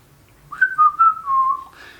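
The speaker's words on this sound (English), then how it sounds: "Don't grumble. Give a whistle." Someone whistles a short melodic phrase of several sustained notes, clear and close against near silence.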